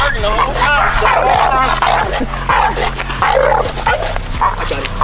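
German Shepherd puppy of about 70 pounds barking repeatedly while tugging on a spring pole and resistance bands, loud and close, with someone talking over it throughout.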